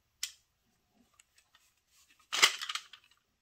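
A magazine is slammed into a Sig Sauer MPX .177 pellet rifle: a short sharp click near the start, a few faint ticks, then a loud metallic clack with a brief rattle, all close up and without speech.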